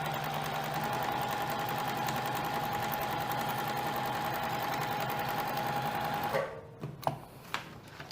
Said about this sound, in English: we're gonna sew along right on this black line